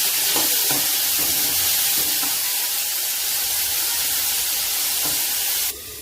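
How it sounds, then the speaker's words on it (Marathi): Onion and tomato for soya masala sizzling and frying in a pan, a steady bright hiss with a few soft stirring scrapes, close by, quieting slightly near the end. "आता आपण यामध्ये एक टोमॅटो घालून घेऊ आणि 4 मिनिट शिजवून घेऊया।"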